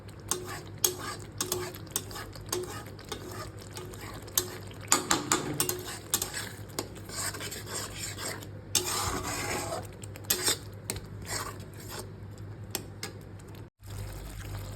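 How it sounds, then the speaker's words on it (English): Bengali rui kalia fish curry cooks in a pan over a low flame as the oil separates, giving steady stirring and scraping with a soft sizzle throughout and a few sharper clinks of utensil on pan. "tell them to enjoy the sounds of cooking."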